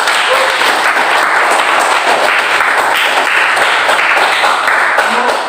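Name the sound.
class applause after a lesson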